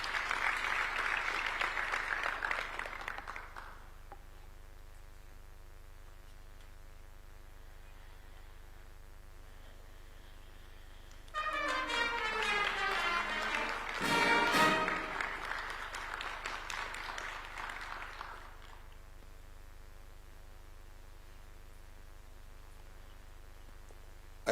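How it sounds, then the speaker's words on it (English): Applause from the audience at a Kenyan Supreme Court judge's swearing-in ceremony, a steady clapping burst of about four seconds at the opening, then another louder round swelling mid-way and fading out, with quiet room tone between. "A round of applause for her, please."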